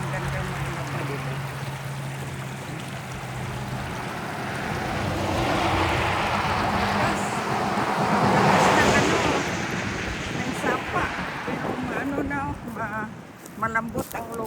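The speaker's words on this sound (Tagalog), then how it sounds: "malakas ang sapa" A strong creek behind a house rushes with a steady, loud roar close by. Wind gusts hit the microphone and people talk over the water.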